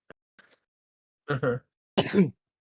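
A single quiet, sharp sneeze from a person with allergies during a tabletop fantasy role-play session, followed by brief soft vocal sounds.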